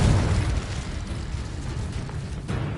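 Confringo and Incendio spells explode in Hogwarts Legacy with a deep, rumbling blast that stays heavy and continuous, a fiery roar with a fresh thump near the end, loud and unaccompanied by speech.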